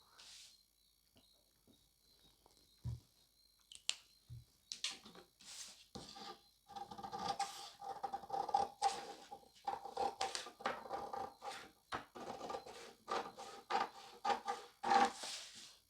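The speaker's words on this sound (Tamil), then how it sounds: "இப்போ இதை கட் பண்ணிடலாம்." Scissors cut through blouse fabric for a one-shoulder blouse, giving a run of close, crisp snipping and rubbing sounds that repeat steadily, with no talk over them.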